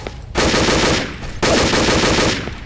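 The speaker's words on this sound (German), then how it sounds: "Das Problem ist, mein MG ist sehr ungenau, gell?" Two long bursts of automatic machine gun fire in the shooter game Übersoldier 2, loud and close, each a rapid continuous rattle lasting about a second with a short pause between.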